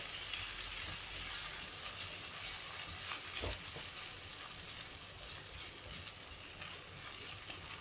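Potatoes stir-frying in a pan for a Kerala potato mezhukkupuratti, giving a steady close sizzle and fry with occasional scraping stirs, alone without talk.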